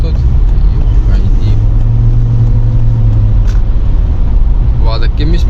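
A repaired car drives along, its engine hum and road noise a loud steady drone throughout, with voices heard over it.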